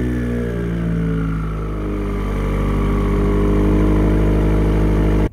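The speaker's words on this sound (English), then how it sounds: "I'm gonna go ahead and set you down, start up the car." Steady idle of a Subaru Forester XT's turbocharged engine, loud and close with an even low drone and shifting harmonics, cutting off abruptly at the end.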